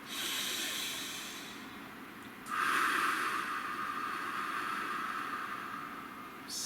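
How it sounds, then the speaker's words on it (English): A slow, deep breath drawn in and let out near the microphone, a soft airy rush that swells partway through and trails off, with no talking. "Take a deep breath."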